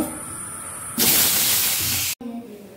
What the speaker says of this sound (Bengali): তেলটা গরম করে নিয়েছি, পটলগুলোকে এর মধ্যে দিয়ে দেব।